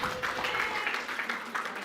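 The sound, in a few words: audience applause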